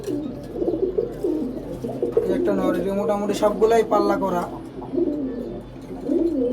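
Pigeons coo in low, throaty rolls close by, while someone talks over them throughout.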